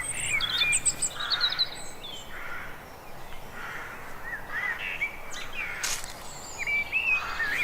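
Wild birds sing and chirp in the Welsh countryside in spring, with several overlapping calls and short trills rising over a soft, steady outdoor hiss, fairly distant and fairly quiet, with no voices.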